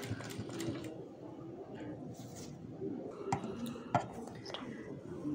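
A sewing machine stitches a straight seam on cloth, running as a steady, fairly quiet mechanical whir throughout with a few light clicks and faint background sounds.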